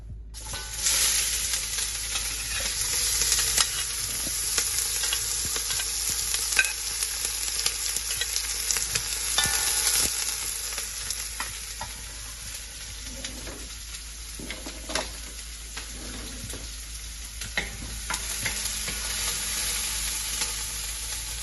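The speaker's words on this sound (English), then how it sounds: "And we're going to put our onion in there." Onion sizzling and frying in a hot pan for Caribbean curry shrimp, a steady close crackling hiss that runs without a break, with occasional stirring scrapes and no voices.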